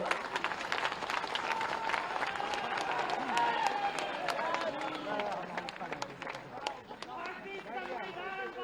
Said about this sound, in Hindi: खड़ा होकर तालियों से स्वागत करिए